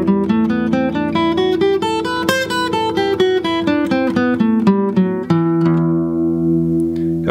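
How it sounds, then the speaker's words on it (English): An E natural minor scale on gypsy jazz guitar, single notes picked one after another in a steady run up and back down, ending on a sustained ringing note, close and unaccompanied. "The first of which is the E natural minor scale."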